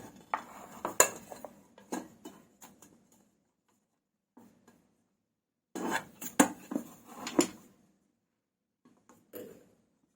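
A rava cake is turned out of its tin onto a plate, giving clattering knocks of metal and dishware in two short bursts with quiet gaps between them, close up.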